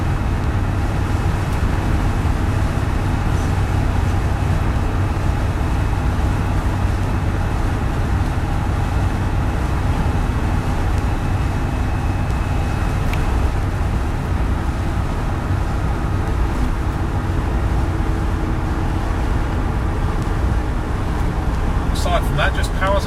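A Land Rover Defender 90 TD5 diesel on the move, a steady loud drone of engine and road noise heard from inside throughout, with someone talking over it.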